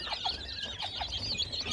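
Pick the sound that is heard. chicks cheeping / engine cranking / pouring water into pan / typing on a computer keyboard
chicks cheeping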